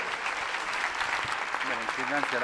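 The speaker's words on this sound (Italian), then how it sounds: "Auguri ai novelli sacerdoti, l'applauso a loro." Applause from the congregation at a priestly ordination of six new priests in Naples' archiepiscopal seminary at Capodimonte. It is a steady wash of clapping throughout, with voices talking over it toward the end.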